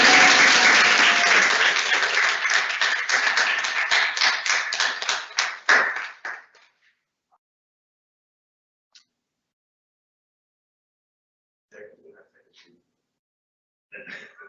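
A school student government meeting crowd gives loud, dense applause for an award recipient, sustained for about six seconds, then thinning into scattered claps that fade to near silence, with a few faint sounds afterward.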